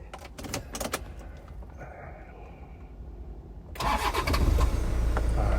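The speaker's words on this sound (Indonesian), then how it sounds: "Tuh suara mesin dieselnya." A diesel engine in a restored former taxi is cranked and catches, preceded by faint handling noises inside the car, then settles into a loud, close, steady idle.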